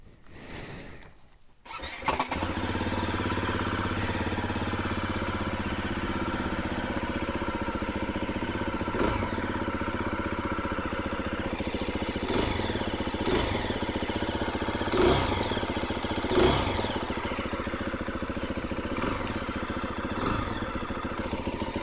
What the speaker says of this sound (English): So I'm going to fire this thing up and take her for a rip.